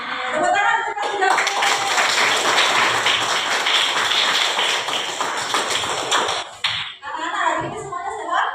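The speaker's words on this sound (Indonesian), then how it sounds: "Tepuk tangan untuk kita." A classroom of children claps hands together in a dense, rapid burst lasting several seconds, loud and close, with children's voices before and after.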